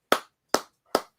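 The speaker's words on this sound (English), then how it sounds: "Let's give an applaud for Chancellor right now." Three sharp, evenly spaced hand claps, close and isolated with short decays, a lone person applauding someone named Chancellor.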